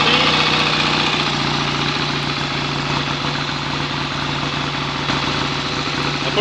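A freshly rebuilt BSA A65 motorcycle engine runs steadily at close range on its first start, a loud continuous idle with a fast, even mechanical beat and no voices.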